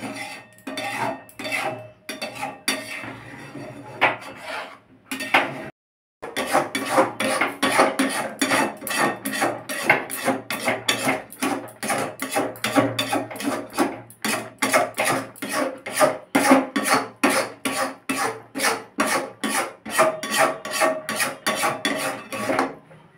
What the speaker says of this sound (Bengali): বারবার নাড়তে হবে, এইভাবে ক্ষীর তৈরি করলে তাড়াতাড়ি হয়ে যায়।